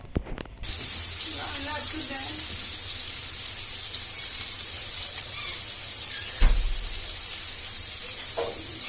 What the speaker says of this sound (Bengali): আমি এটা পেঁয়াজ কুচিটা ভাজতে থাকবো